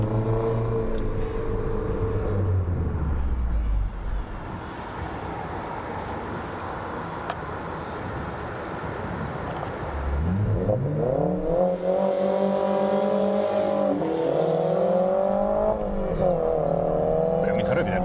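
A car engine drives a lap on a dirty race track from inside the cabin, a loud steady drone that climbs through the revs, drops at a gear change and then pulls hard again.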